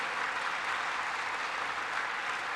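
A large gathered audience claps together in a steady, dense roar of applause that stays even and loud from start to finish with no voices over it.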